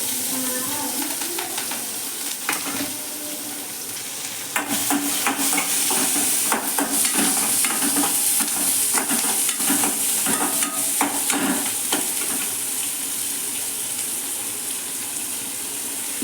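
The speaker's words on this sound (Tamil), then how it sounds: "இதெல்லாம் போட்டு வதக்கிடுவோம்." Onion, green chili, carrot, coriander leaves and curry leaves sizzle in a pan while a spoon stirs them, giving steady frying hiss with repeated scraping clicks, close up with no talking.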